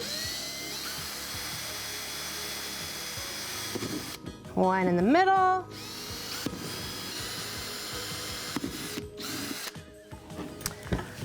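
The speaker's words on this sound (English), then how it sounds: "we need to drill anywhere from about 3 to 10 holes depending on the size of your container" Power drill boring holes in a plastic compost container lid, a brief rising whine of about a second under steady background hiss, with a person speaking nearby.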